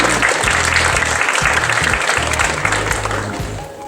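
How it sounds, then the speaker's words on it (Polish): Audience applause at an award ceremony as an honoree is called to the stage, dense steady clapping filling the hall, loud and continuous with low hum beneath, easing slightly toward the end. "Brawa."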